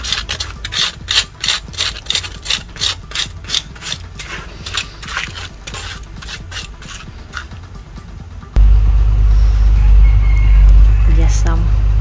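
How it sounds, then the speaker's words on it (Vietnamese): A knife or spoon scrapes the charred, burnt skin off a grilled snakehead fish in quick, rhythmic rasping strokes, loud and close, before a steady low rumble takes over near the end. "Mình sẽ cạo cái lớp khét này ra."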